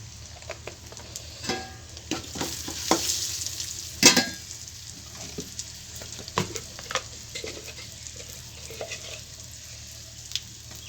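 Cooked rice is stirred into a pulihora tempering with turmeric and asafoetida in a pan, giving soft scraping and stirring sounds over a faint sizzle, with a sharper spoon clack partway through.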